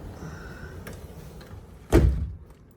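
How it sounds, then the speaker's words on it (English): A hotel room main door at the Sotetsu Grand Fresa Tokyo Bay Ariake swinging shut, a single dull thud after faint shuffling and room ambience, fairly close and moderately loud. "Close the main door back."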